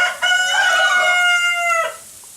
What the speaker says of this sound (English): The rooster thinks it's time to get up.